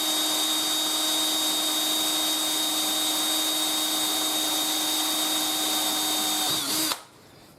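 A hand drill with a 2.5mm pilot bit bores through metal fender riser brackets for a Honda Africa Twin CRF1000L, a loud, steady high whine running continuously up close before cutting off abruptly near the end.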